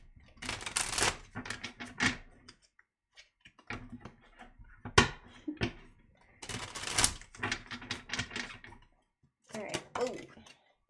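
Tarot cards being shuffled by hand in bursts of dense papery riffling and clicking, several separate flurries with short pauses between, close and fairly quiet, no talking over them.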